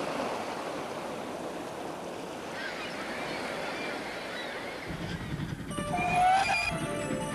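A moving train rolls along with a steady rushing rumble and rail noise, joined late by brighter squeals and a thicker low rumble, carrying on continuously without any voices.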